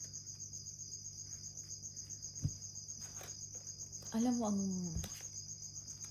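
Crickets chirp loudly at night in a steady, unbroken high trill. A brief voice and a couple of sharp knocks break in over it.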